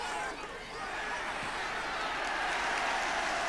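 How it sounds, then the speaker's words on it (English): Stadium crowd applauding a fair, strong tackle during a Brentford football match, a broad sustained wash of clapping and crowd noise that holds steady and swells slightly over a few seconds. "And Gelson quite rightly getting a round of applause for taming McDougall in that particular instance"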